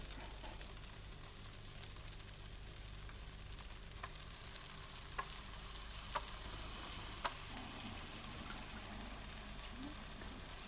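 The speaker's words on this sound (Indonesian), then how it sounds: "Lalu diaduk sampai warnanya rata." Tempe coated in sweet soy sauce fries quietly in a pan, a soft steady sizzle broken by a few faint scrapes and clicks of stirring.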